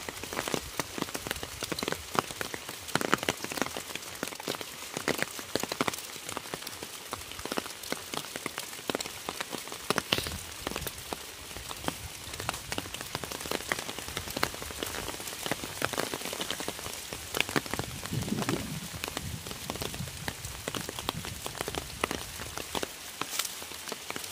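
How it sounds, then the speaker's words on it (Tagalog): Steady rain patters on a surface outdoors at a planting field throughout, a dense wash of drops with no voices, close and continuous. "Yan po kami nabutan ng ulan sa pagtatanim."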